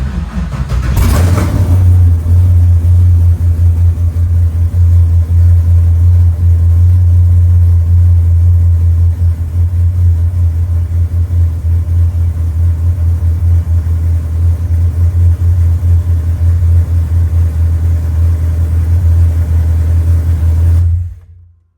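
A budget turbocharged F-body Camaro cranks and starts with a brief burst, then settles into a loud, steady, choppy idle rumble close by for about twenty seconds before stopping.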